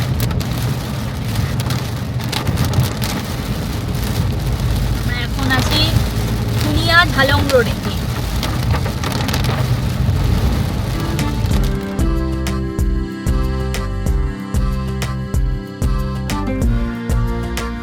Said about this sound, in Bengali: আর বেশ জোরে বৃষ্টি নেমে গেছে।